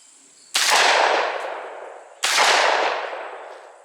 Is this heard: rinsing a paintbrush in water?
no